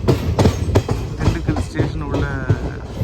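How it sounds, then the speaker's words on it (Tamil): A Nagercoil superfast express train pulls into Dindigul station, with a short run of rhythmic clattering wheel bursts up close and voices murmuring nearby. "கரெக்டாக திண்டுக்கல் ஸ்டேஷன் உள்ள வண்டி வருது"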